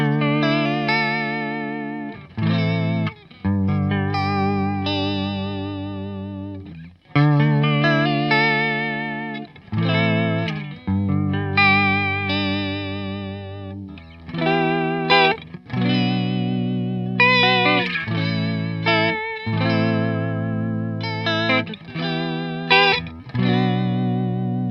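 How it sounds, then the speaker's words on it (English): Guitar played through a Behringer Ultra Vibrato pedal, a Boss VB-2 clone, on an all-Behringer pedalboard, sustained chords wavering in pitch with a steady warble, loud and close, a series of strummed phrases with brief gaps. "the vibrato is very good at creating a bit of warble and movement in my sound"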